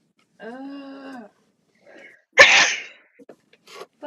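A single sharp sneeze bursts out loud and close, preceded by a short vocal sound and followed by faint rustling and small clicks.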